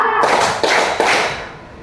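Three sharp hand claps from a word-cue clapping game, spaced about evenly and ringing briefly in a reverberant room, each one fading before the next.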